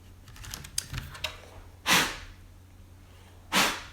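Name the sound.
typing on mechanical keyboard with O-rings installed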